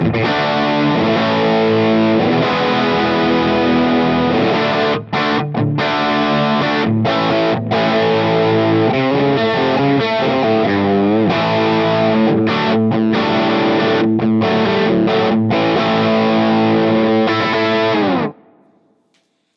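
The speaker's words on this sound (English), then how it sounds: "the tightest, gainiest version of this amp model that we can get" A heavily distorted, high-gain electric guitar through a Line 6 HX Elmsley amp model plays tight, chugging riffs with sustained chords, loud and continuous until it stops abruptly.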